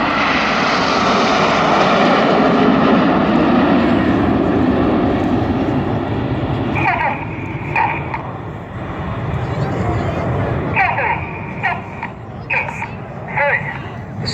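Red Arrows jets streaming smoke fly past at the 2016 Southport Airshow, a loud, steady roar that swells and holds before thinning out, with faint crowd noise and brief higher sounds breaking through in the second half.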